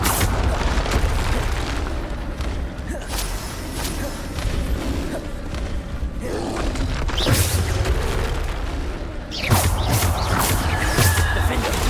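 Bombarda explosion spell from the game Hogwarts Legacy, part of a dense battle mix: booming blasts and bursts over continuous loud effects and music, with sharper impacts near the end.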